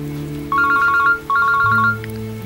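A phone rings in two electronic trilling bursts with a short gap between them, clear and fairly close, over a low steady hum, with no speech.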